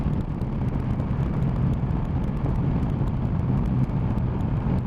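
A 2020 BMW S1000XR motorcycle riding on an open road, its engine a steady close drone mixed with wind buffeting on the microphone, with no clear talk.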